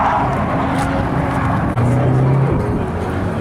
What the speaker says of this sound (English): LT1, I think. GM V8 swap.